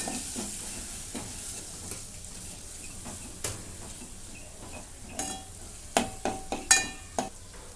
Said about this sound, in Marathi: थोडीशी धना जिरा पावडर थोडासा गरम मसाला परतून घेते